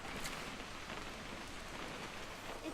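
Steady rain patters and hisses continuously at a soft, even level in the video game What Remains of Edith Finch, with no voices over it.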